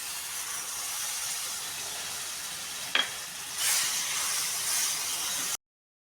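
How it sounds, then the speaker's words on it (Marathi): Curd poured into a pan of frying green chillies, giving a steady close hiss and sizzle with one sharp tap midway and a brighter surge of sizzling afterward before it cuts off. "या स्टेजला आपण इथे दही टाकणार आहोत"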